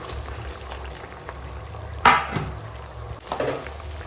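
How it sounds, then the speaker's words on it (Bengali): Tender spinach goes into a pot of simmering vegetable broth: low bubbling, then a sudden rustling splash as the leaves drop in, followed by a second softer stir. "এখন এই কচি পালং একটু ঝোলে দিয়ে দিলাম"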